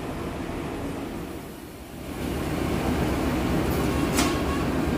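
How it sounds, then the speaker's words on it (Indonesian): Rail noise at a station during uncoupling of a locomotive, with a steady low rumble that dips briefly, then swells again, plus a sharp metallic clank near the end. "Lokomotif dilepas."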